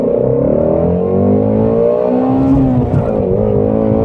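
A Ford Mustang GT350's engine rumbles and hums steadily and loudly, with a slight rise in pitch partway through, no voices.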